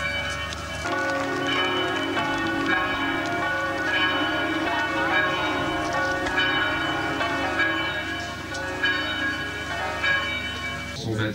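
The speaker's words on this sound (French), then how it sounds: "Ces clochers sonnent. Entends-tu les cloches du Seigneur?" Church bells ring continuously with rich overlapping tones, a full, resonant peal sustained throughout.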